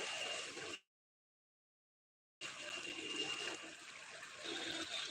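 Heavy rainwater flows loudly and continuously in a steady rush, broken by a short silent gap before the torrent resumes.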